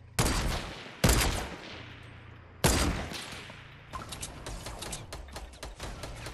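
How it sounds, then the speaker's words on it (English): Gunfire in Fortnite, three loud close shots with ringing tails followed by a rapid burst of quicker cracks, all fairly near and loud. "What are you shooting at?"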